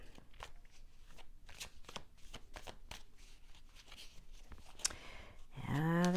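Tarot cards being shuffled by hand in a series of crisp, rapid riffles and flicks, close and fairly quiet, followed by a brief rising tonal sound near the end.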